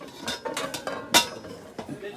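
A non-stick wok is handled in a cookware shop in Saudi Arabia, giving a few sharp metallic clanks and taps over a low room murmur, with a voice faintly present.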